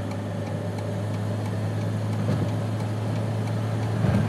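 A 1982 BMW 325 cruising at about 50 mph as it merges onto the freeway, with a steady low engine hum and road drone from inside the cabin, fairly constant and unaccompanied by talk.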